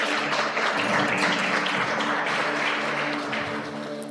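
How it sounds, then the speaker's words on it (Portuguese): A church congregation applauding during a worship service, a dense, steady wash of clapping that carries on throughout, with a sustained tone underneath. "Você pode aplaudir ao Senhor por esta palavra de oferta?"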